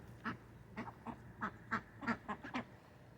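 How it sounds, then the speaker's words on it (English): A flock of pet ducks quacks as they gather at water to drink and dunk their food. About ten short, moderately close quacks come in an uneven rhythm against quiet outdoor background. "Now the ducks are all going over and getting water, and possibly dunking their food into the water."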